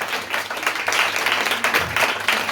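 Loud, close applause from the audience at a literary conference, hands clapping in an uneven, surging wash that swells and dips over a few seconds, with a faint voice briefly underneath.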